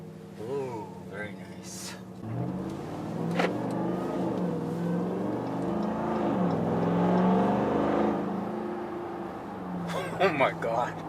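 RAM TRX pickup with a muffler delete and SLP resonators revving, a deep, throaty rumble that swells and holds before dropping back, with people talking over it.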